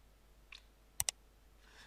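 Computer keyboard keys pressed to enter a value in AutoCAD: two quick, crisp clicks close together, fairly quiet in an otherwise still room, with a faint soft tick just before.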